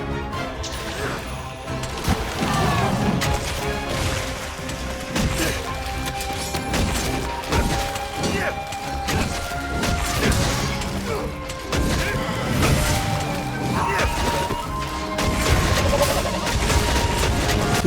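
Monster Hunter Rise combat with an attack explosion: dense, repeated crashes, thuds and impacts layered over game music, loud and continuous throughout.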